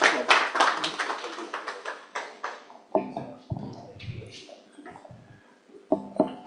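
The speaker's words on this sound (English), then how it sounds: "A round of applause for Mr. Olomola, please." An audience at a panel event claps after a presentation, starting as a dense round of applause and then thinning into scattered, separate claps.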